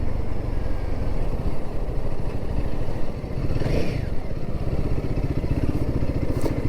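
A Royal Enfield Himalayan 450 motorcycle idles at about 1300 rpm, its engine giving a steady, close, loud low thrum with fast even pulses and a slight mechanical clatter throughout.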